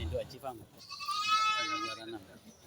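A goat at a goat contest lets out a drawn-out, wavering bleat under someone speaking over a loudspeaker, and his voice runs before and after the call.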